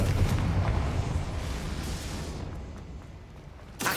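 A Confringo blasting spell in Hogwarts Legacy erupts as a loud, rumbling explosion that swells and slowly decays over a few seconds, ending with a brief sharp burst.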